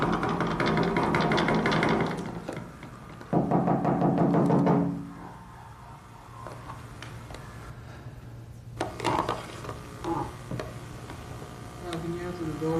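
Repeated banging and pounding on an apartment door by an angry downstairs neighbor, heard as a played recording, with heavy thuds in the first seconds, then quieter knocks and rustling.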